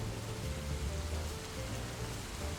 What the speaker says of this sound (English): Oh, you hear that rain going wild right there?